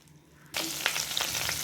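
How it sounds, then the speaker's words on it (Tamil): Butter hits a hot pan on the stove and starts melting. After a brief quiet moment, the pan bursts into a loud, continuous sizzle with sharp spits and crackles close by. "அடுப்பத்தை வச்சு பாத்திரத்தை வச்சு அதில் பட்டர் போட்டாச்சு. அது நல்லா கரையட்டும்."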